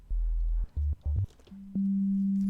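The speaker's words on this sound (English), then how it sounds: "Right, so we have a sine wave here." Plain sine wave tones from a Sylenth1 synthesizer: a low pure tone, then two short repeated bursts, then a steady higher sustained tone, clean and alone with no other sounds.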